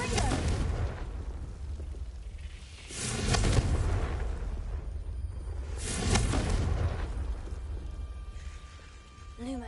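Confringo blasting spell from Hogwarts Legacy, heard as a series of loud booming bursts, roughly three heavy explosions spaced a few seconds apart, each followed by a rumbling decay.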